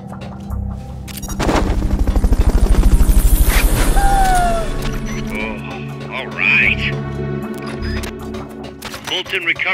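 A military helicopter in the video game Metal Gear Solid Peace Walker roars nearby with a loud, pulsing rotor thump, then fades as game voices and effects take over.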